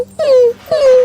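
A human voice imitates a puppy whining with two close, loud, high-pitched whimpers, each sliding slowly downward in pitch, separated by a short gap.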